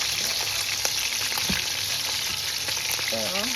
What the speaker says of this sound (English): Turn down your stove and take your time and fry your fish.